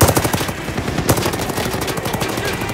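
Rapid automatic gunfire in Call of Duty Vanguard: loud, evenly spaced machine-gun bursts rattle continuously, with a heavier shot just after the first second and no talking.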